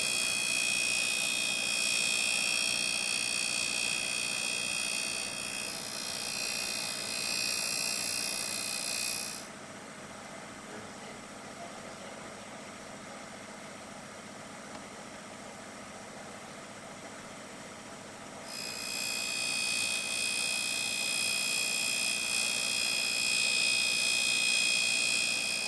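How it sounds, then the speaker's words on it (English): E-90 end mill sharpener grinding the primary cutting edge on the end of an end mill: a steady high-pitched grinding whine over a motor hum, easing to a quieter hum midway before the grinding returns, with no talk. "Next, we sharpen the primary cutting edge on the end."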